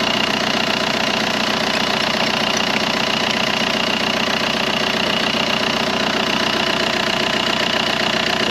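The 2.5-litre diesel in a BMW 525 tds idles up close, a loud, constant clattering rumble with a steady knocking rhythm that never changes, with no talk over it.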